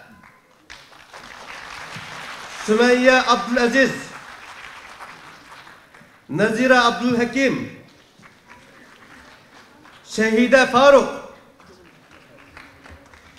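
An audience at a martyrs' night program applauds softly and steadily in the background while an announcer reads out a series of names in loud bursts.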